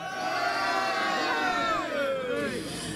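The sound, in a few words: crowd shouting together during Romanian New Year greeting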